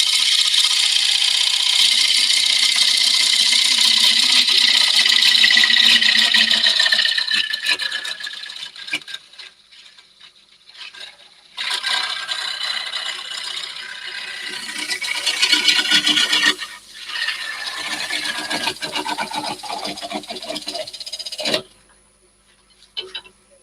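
A burr-grained wood turning is parted off on a lathe, giving a loud, harsh cutting and rasping whine that cuts out, returns in bursts, then stops abruptly near the end.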